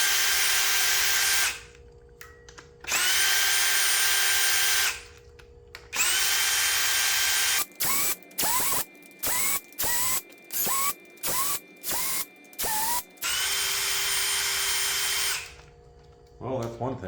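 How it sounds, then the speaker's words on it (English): A DeWalt hammer drill spins up on injector nuts of a 2017 Cummins 6.7 diesel engine, first in several long whirring ratchety runs, then a string of short rapid bursts, loud and close, with brief pauses between. "even though this is a shitty DeWalt, it should take these injector nuts loose"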